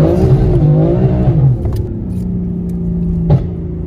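A tuned 850 hp BMW M4 engine roars loud and close, revving up and down before settling into a steady drone, with a sharp pop near the end.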